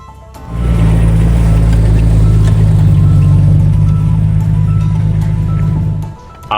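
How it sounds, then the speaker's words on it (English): Jeep engine droning steadily and loudly as it crawls over massive rocks and rough mountain terrain, a low heavy rumble that starts abruptly, holds for several seconds, then cuts off. "The Jeep moved through massive rocks and rough terrain"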